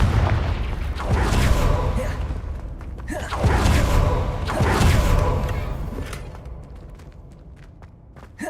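Confringo fire spells detonate in Hogwarts Legacy, three loud booming blasts a second or so apart, each trailing a roaring crackle, then fading to quieter game ambience.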